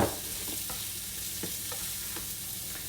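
Onions sautéing in butter in a pan, a steady close hiss of frying with a few faint scraping stirs, short and without voices.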